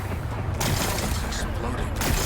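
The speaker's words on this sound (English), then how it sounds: "It's exploding." A machine's power cell exploding in Horizon Forbidden West: a loud, roaring blast that sustains as a rumbling burst throughout, with a sharper surge near the end. A voice talks at points.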